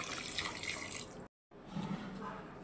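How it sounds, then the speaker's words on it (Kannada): Water pours into a cooker in a continuous splashing stream, briefly stops, then resumes, close by. "ನೀರು ಆ್ಯಡ್ ಮಾಡ್ಕೋತಾ ಇದ್ದೀನಿ."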